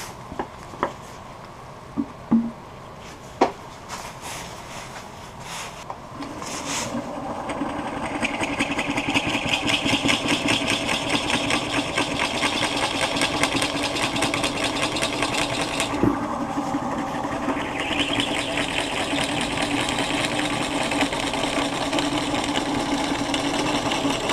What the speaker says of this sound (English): I enlarged the hole with a Forstner bit as far as it would go.